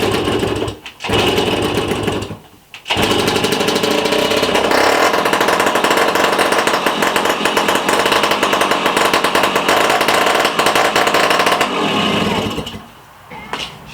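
The small engine of a 1965 Sears Sabre motorcycle, fitted with a new car-size ignition coil, runs loud and close with a fast rattling buzz, sputtering out briefly twice before catching and running steadily.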